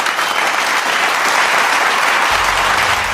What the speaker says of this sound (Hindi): पूरा सभागार तालियों की गड़गड़ाहट से गूंज उठा